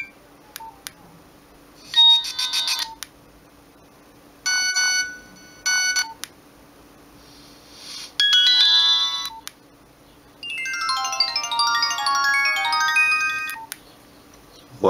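Nokia 1616 mobile phone playing its Urgent ringtone, a close, bright electronic tone in several short bursts separated by silence, ending in a longer, louder phrase.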